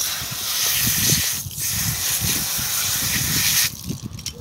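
A hose sprays water while a smallmouth bass is cleaned out, making a steady, close hiss and gush with splashy low spatters that breaks off briefly twice.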